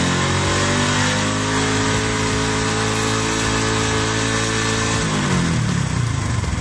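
A motorcycle engine revs at high throttle, a loud, steady droning roar with strong harmonics that holds level and then drops in pitch as it eases off near the end.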